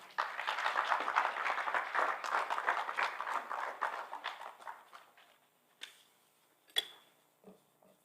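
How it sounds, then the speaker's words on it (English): Conference plenary audience clapping to welcome a speaker to the podium, a dense round of applause that thins out and fades after about five seconds, leaving a few scattered claps and knocks. "Let us welcome her with a round of applause."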